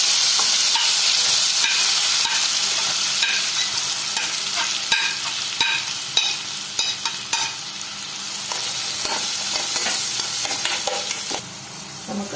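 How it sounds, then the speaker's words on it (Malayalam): Green chillies and sliced onion sautéed in a pan, a loud continuous sizzle broken by repeated scraping stirs of a spatula, close up and with no talking over it. "ഇതിലേക്ക് എടുത്ത് വെച്ചിരിക്കുന്ന പച്ചമുളകൊന്ന് ഇട്ട് ഒന്ന് വഴറ്റി കൊടുക്കാം"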